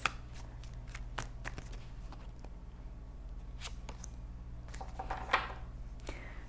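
Tarot cards are handled and one is drawn from the deck, giving soft, scattered flicks and papery slides against a low steady hum, with a brief brushing rustle near the end.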